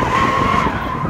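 A 1972 AMC Javelin autocross race car with carbon-fiber body panels and a supercharged Hellcat engine slides sideways, its tires skidding loudly and continuously under a steady engine roar.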